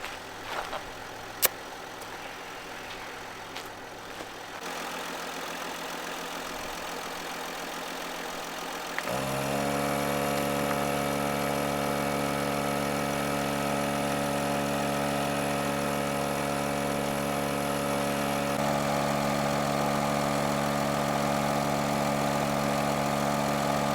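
An ARB air compressor runs steadily beside a 4x4 Sprinter van, inflating the rear tires; a loud, constant motor drone with a tonal hum kicks in and holds after quieter background noise, with no talking.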